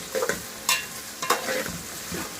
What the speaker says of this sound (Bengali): পেঁয়াজটাকে তেলের উপর ভেজে নিব